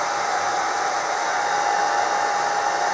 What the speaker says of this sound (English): I'm now using my hairdryer, and it's just a normal hairdryer